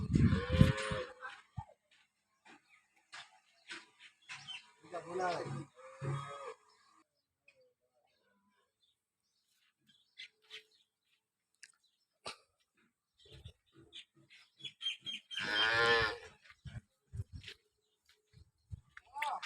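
Cows on a farm in Banaskantha, Gujarat, low deep moos rising at the start, again around five seconds and once more near the end, with quiet gaps and small scattered sounds between.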